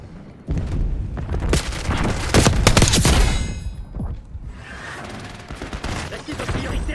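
MP40 submachine gun fire in a multiplayer shooter game, loud bursts of rapid shots and booms up close, thinning to scattered distant fire and clatter toward the end.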